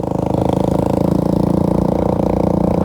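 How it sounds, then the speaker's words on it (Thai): A loud motorcycle with a pierced, modified exhaust runs at a steady putter, its rapid regular pulses droning close and unbroken, with no one talking. "ส่วนรถของเฮาก็คือค่อนข้างดังนิดนึง เพราะว่ารถลุงเนาะขี่ มันเจาะต่อกันเลยมันดังแฮง"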